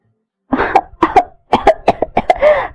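Repeated close coughing fit from a crying woman, loud and strained, coming in quick bursts with one short pause, ending in a rough, drawn-out cough.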